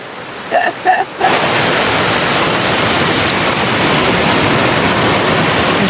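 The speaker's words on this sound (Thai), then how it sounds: "ตรงนี้คือน้ำตกไอ้เขียว" Ai Khiao waterfall roars as a steady, loud broadband rush of falling water that fills the scene after a few faint knocks at the start.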